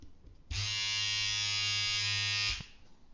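A Powertec electric beard trimmer switches on and runs with a steady, loud mechanical buzz for about two seconds, then shuts off, heard close up with no talking.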